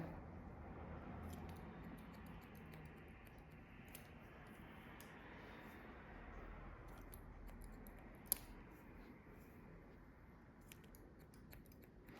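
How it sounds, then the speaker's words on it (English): Hair scissors point-cut the ends of natural hair during a pixie cut, giving faint, sporadic close snips over a quiet room hush. "just point cut into that, trim it a tiny bit"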